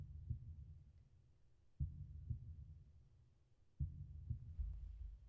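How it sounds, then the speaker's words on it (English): Slow, heavy heartbeat thumps from the video game Limbus Company, a low double beat that repeats roughly every two seconds and stands alone, close and muffled. "Why there a heartbeat?"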